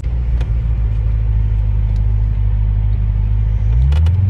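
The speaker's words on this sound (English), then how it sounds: "that is such a great sound the car is making" A custom 2009 Chevrolet Corvette C6 idles with a deep, steady engine rumble close by, then swells briefly as the revs rise near the end, with no talking.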